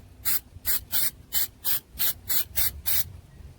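Nine short, even hisses of throttle body cleaner sprayed from an aerosol can onto an Acura TL transmission solenoid, fired in a quick regular rhythm at close range with no talking.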